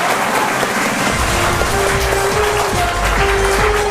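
Crowd of school students at a KBC-style quiz applauding, a loud sustained wash of clapping that rises as it goes on, with faint musical tones sounding over it.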